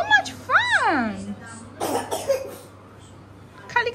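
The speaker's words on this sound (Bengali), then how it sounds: "খালি কাশি আসে?" A child coughs a couple of times up close, short hoarse bursts mixed with a squeaky vocal sound, followed by brief talk and background noise at home.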